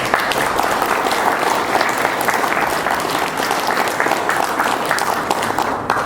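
A church congregation bursts into continuous applause during a sermon, a dense, even roar of hands clapping that holds steady for several seconds without speech.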